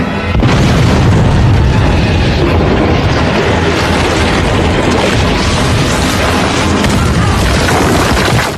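An explosion set off to blast a reinforced blast door in the TV drama Lost, season two, is a loud, sustained roaring boom that fills the scene for several seconds.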